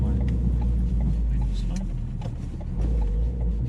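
A 400 BHP Mountune-tuned Ford Focus RS pulls hard in first gear, its loud, raspy engine roaring steadily from inside the car while people talk over it.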